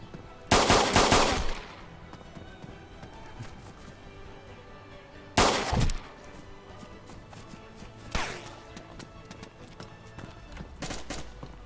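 Video game gunfire: several loud bursts of rapid automatic shots separated by quieter stretches, the first and second bursts strongest, later ones shorter and softer, with faint game ambience between.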